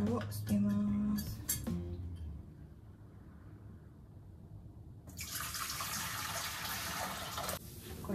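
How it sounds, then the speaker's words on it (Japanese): Hot sterilizing water is poured out into a sink during plum liqueur preparation, a steady splashing rush that starts partway through and runs loud for a few seconds after earlier clinks and handling. "でお湯を捨てます。"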